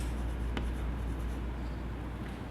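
Chalk or marker scratches across a board during a calculus lecture on trigonometric limits, faint and steady over a constant low room hum, with one sharp tap early on.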